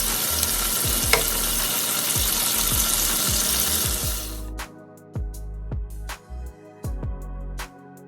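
Bite-sized fish pieces for tacos fry in a pan, a loud dense sizzle for the first half that then drops to quieter crackling, with repeated scraping stir strokes throughout.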